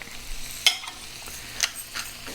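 Chopped carrots cooking in a pan with salt and pepper, a soft sizzle with a few sharp clicks and scrapes of stirring, no talking.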